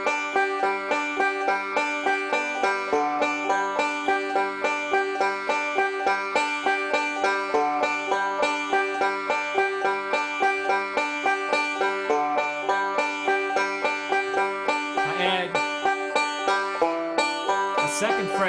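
Banjo picks a steady, rapid forward-roll pattern of bright plucked notes in even rhythm, close and continuous, with a brief slide near the end.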